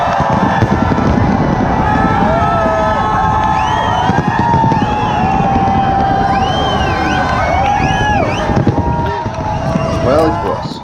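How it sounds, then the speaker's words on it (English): A fireworks show in Singapore unfolds over a loud, dense crowd, with whistling, arcing tones rising above constant chatter, shouts and cheering. "Fireworks. 6 minutes of fireworks."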